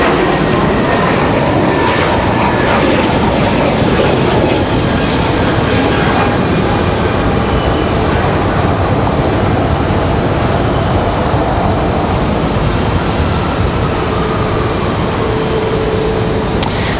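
A Frontier Airlines airliner roars at Raleigh-Durham International Airport, a loud, continuous engine rumble with broadband hiss that stays close and steady.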